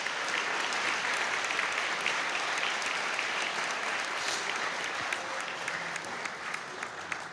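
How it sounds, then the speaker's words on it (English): A hall of fame ceremony crowd gives a steady round of applause for standing committee members, even, continuous clapping that carries on throughout at moderate volume. "let's give them a round of applause"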